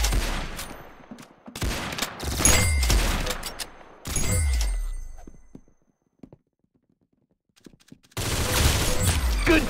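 Gunfire in a shooting video game: loud bursts of rapid shots in several volleys, broken by a near-silent gap before a final sustained burst.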